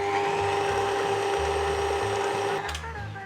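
Electric mixer beating no-bake lemon cheesecake filling, a steady, loud motor whir with a geared whine that runs without a break, easing slightly in the last half second.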